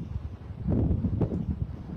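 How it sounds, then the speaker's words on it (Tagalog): Strong outdoor wind buffets the microphone in a continuous low rumbling roar that swells louder midway and stays steady, close and dominant, with no clear talk. "Lakas ng hangin eh."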